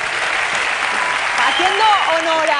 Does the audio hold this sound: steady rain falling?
no